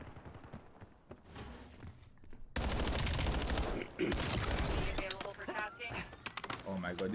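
Rapid bursts of video game gunfire erupt after a quieter stretch, loud and sustained, with automatic weapons rattling close and further shots echoing behind.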